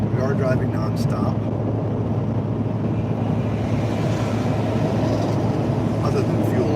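A truck towing a 37-foot RV cruises at highway speed, giving a steady, loud low road-and-engine drone with wind rush that holds unchanged throughout.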